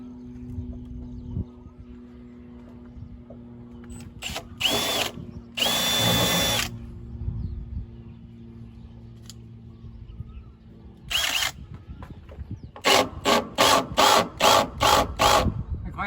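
An electric drill fitted with a 6.5 or 7 mm bit whirs in several short bursts, first two longer runs, then a rapid series of quick pulses, loud and close.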